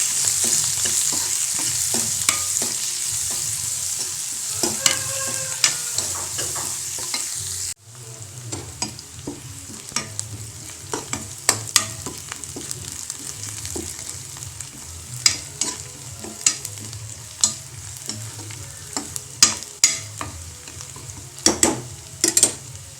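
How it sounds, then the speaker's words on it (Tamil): Onion, green chili and curry leaves sauté in a hot pan, a steady close sizzle broken by repeated scraping stirs and clinks of a spoon against the metal, with no voices. "பச்சை மிளகா நல்லா வதங்குற வரைக்கும் வதக்கலாம்"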